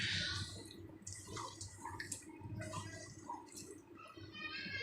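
Water poured into fish curry in a cooking pot, a soft close splashing and gurgling with small drips that continues steadily for a few seconds, fairly quiet with no speech.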